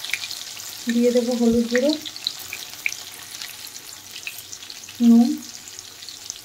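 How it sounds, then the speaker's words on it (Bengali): Boiled potatoes fry in a pan for an egg curry, giving a faint, steady sizzle that runs under two short bursts of speech. "এখন আমি সেদ্ধ করা আলুগুলো দিয়ে দেব, আলুগুলো ভেজে তুলে নেব।"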